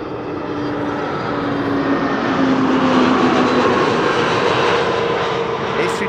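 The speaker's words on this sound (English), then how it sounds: "This is another EasyJet A320neo. This one is arriving from Palma de Mallorca." An EasyJet Airbus A320neo arriving from Palma de Mallorca roars past as a loud, steady jet rumble with a faint rising whine. The engine sound swells slightly and holds throughout, with no talk.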